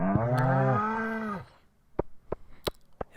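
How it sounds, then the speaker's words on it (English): Cattle in the Stardew Valley farming game give two long, loud, drawn-out moos that overlap, then a few sharp clicks and taps follow in a quieter stretch. "And upset cows."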